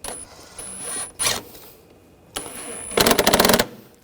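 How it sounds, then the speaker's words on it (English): Hose clamps on the airbox of a 2002–2006 Honda CR-V 2.4L being tightened by hand, giving short bursts of ratcheting clicks with quiet gaps between them and a longer rapid clicking run near the end. "Tighten down the hose clamps."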